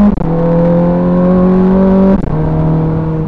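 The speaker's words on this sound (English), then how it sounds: "And that's a straight pipe. This is a standard exhaust in this car." A car with a standard straight-pipe exhaust revs loud and close, holding a steady droning note, dipping briefly, then settling back to a lower sustained roar, with no talk.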